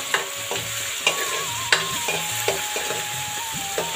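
Tomatoes frying in a pan for kadhi, stirred with a utensil in several clicking scrapes over a constant close sizzle, with no voices.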